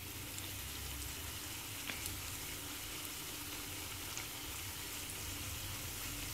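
Lachcha semai layers fry in hot oil while being turned and stirred, giving a steady, close crackling sizzle that runs evenly throughout with no voices.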